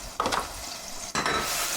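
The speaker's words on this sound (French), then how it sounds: "On va les faire revenir, les faire colorer dans une casserole avec un peu de beurre." Pork cheeks sizzle in a saucepan with a little butter, a broad hissing fry with two louder bursts as the meat is stirred or turned.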